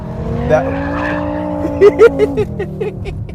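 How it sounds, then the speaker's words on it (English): A 2014 BMW M5 Competition Package with a turbocharged V8 powers through a track corner. The engine drone is loud and close and rises in pitch, with a few quick tire chirps as it exits. "The nice thing is that this is a turbocharged V8,"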